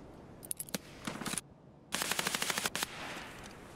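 Escape From Tarkov gunfire comes in sharp rapid automatic bursts: a few single shots, a short burst, then a longer string of fast shots after a brief pause.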